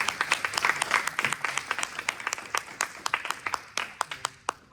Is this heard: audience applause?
yes